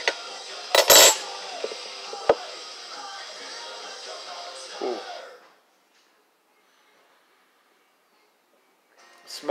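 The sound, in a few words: can opener spoon opening a can of cowboy candy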